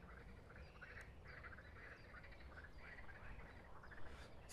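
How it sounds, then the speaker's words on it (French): Frogs calling at a pond in breeding season, a faint, steady chorus of repeated croaks with a few louder calls nearby, no voices over it. "C'est la reproduction des grenouilles."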